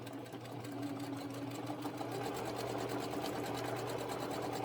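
Sewing machine stitching quilt pieces, a steady fast mechanical whir with even stitch pulses, running continuously at close range.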